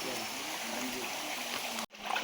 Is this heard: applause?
no